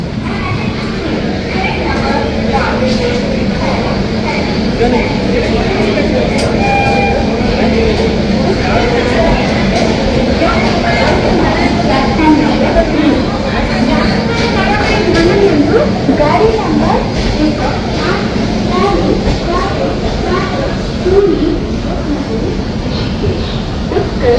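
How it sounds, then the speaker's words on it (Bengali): Steady, loud rumble of the 12277 Puri Shatabdi Express rolling along after departing Bhubaneswar, heard from inside the coach as a continuous dense roar with faint rattles, voices and background chatter mixed in throughout. "আমাদের ট্রেন ভুবনেশ্বর থেকে ছাড়লো।"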